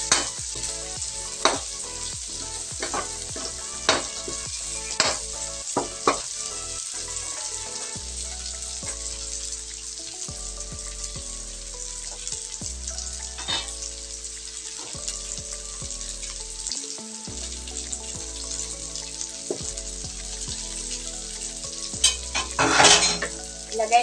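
Onions for chicken adobo sizzle steadily in a hot pan while a spoon stirs and scrapes at intervals, a close, continuous frying hiss with occasional clinks and no talking.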